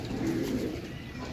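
Pigeons cooing at a pigeon sale in Sarai Alamgir, Jhelum, Gujrat, Pakistan, a brief low, throaty coo close by over a murmuring background.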